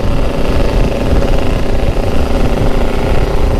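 A bored-up, stroked motorcycle engine, one of several bikes at a street top-speed run, drones loud and steady throughout with a dense, rough low rumble and no talk over it.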